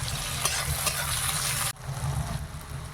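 Onions and tomatoes fry in a pan with a dense, loud sizzle and scraping stir, the hiss cutting briefly midway before the frying and stirring resume.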